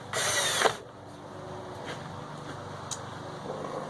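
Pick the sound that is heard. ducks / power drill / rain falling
power drill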